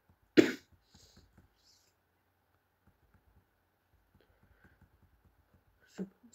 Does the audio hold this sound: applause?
no